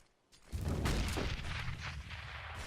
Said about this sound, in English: Preemptive grenades from the CT side.